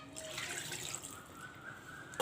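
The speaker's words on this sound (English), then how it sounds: "Now once and for all I will put the water" Water poured from a vessel into a pan of chicken vindaloo (dry kosha style) during cooking, a steady close splashing pour lasting a couple of seconds, ending with a brief clatter.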